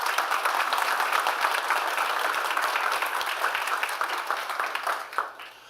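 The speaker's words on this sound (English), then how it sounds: "So I really want to give them a round of applause." Sustained audience applause at a tech conference about GraphQL federation, a dense steady wash of many hands clapping from a sizable crowd that tapers off near the end.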